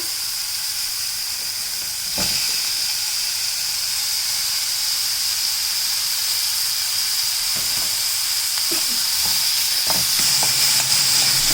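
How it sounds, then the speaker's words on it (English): Chopped tomato drops into a hot pan for methi aloo mattar sabji, setting off a steady, close sizzle and hiss that jumps louder after a couple of seconds and carries on with faint stirring clicks. "Next I'm going to add finely chopped tomato."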